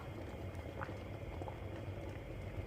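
Beef broth simmering gently on low heat, a soft, continuous bubbling with faint scattered pops, quiet and steady with no one speaking.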